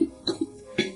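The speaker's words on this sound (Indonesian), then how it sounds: "Batuk." A few short coughs, close and dry, in quick succession with brief pauses between them.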